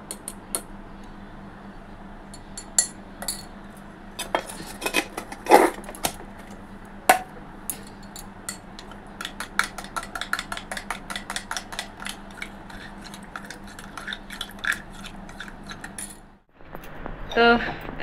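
A spoon stirring protein powder into a drink, with a long run of quick light metallic clinks and taps against the container, close and fairly soft, and a brief pause near the end before the clinking resumes.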